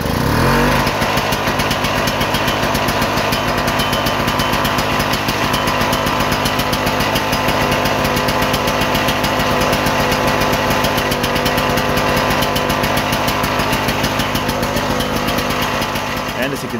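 A 5000 VA petrol generator runs steadily at close range, its engine drone loud and constant throughout with a brief start-up burst at the beginning, and nothing else competes with it.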